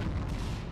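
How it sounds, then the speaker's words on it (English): Rumbling explosions and booms in the video game Mass Effect 3 roll on continuously at a moderate level, with no talk over them. "Why are you showing explosions everywhere around me?"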